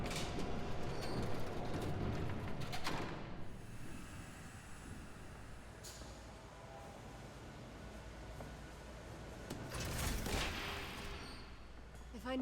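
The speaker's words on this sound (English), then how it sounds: "There's a train coming." A train approaches in Batman: The Telltale Series, a low rumbling rush with hissing swells that rise toward the end, mixed with game ambience and occasional bursts of noise.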